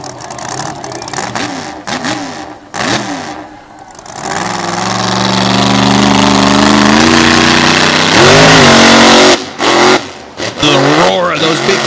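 A Dodge race car engine revs hard and accelerates away from the flag stand at Boyd Speedway, a loud rising roar building over several seconds, with a commentator talking over it before and after.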